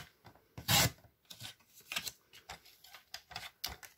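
Paper being cut with scissors for a handmade surprise box craft, a string of close, dry snipping and rasping strokes, one louder cut early on followed by several shorter ones, with no talking.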